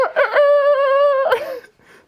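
A voice imitates a rooster crowing, giving one loud, drawn-out cock-a-doodle-doo with a long sustained middle note, followed by a faint trailing sound.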